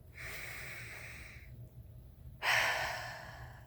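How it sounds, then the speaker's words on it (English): A single deep breath taken close to the mic, a long soft inhale followed by a slightly louder, breathy exhale, quiet and alone. "so deep breath"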